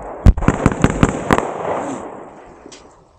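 A rapid string of gunshots cracks out at an outdoor shooting range during a Green Beret range day, about six sharp, close reports in quick rhythm followed by a fading echo.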